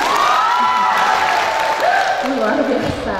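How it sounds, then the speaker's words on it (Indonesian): Dense applause from a crowd, steady and loud throughout, with a voice speaking over it. "Kalau makin semangat tepuk tangannya kan?"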